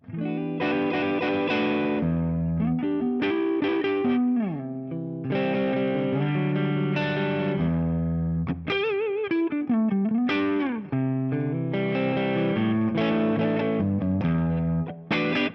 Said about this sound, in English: I'm using the London Plate reverb. This one's really, really nice with this guitar on the neck pickup.